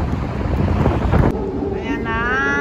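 Strong wind buffets the microphone on the Gare d'Austerlitz bridge in Paris with a dense rumbling roar, then eases as a faint warbling tone rises in the background.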